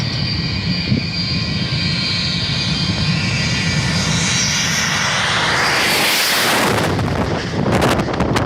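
A loud, steady jet engine roar fills the air, swelling and shifting in pitch as a large airliner passes close overhead, with some wind buffeting.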